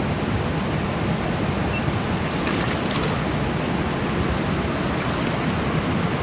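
Heavy rushing whitewater of the Dominator rapid on the Giant Gap run, a steady loud broadband roar that holds unbroken and close throughout, with no voices.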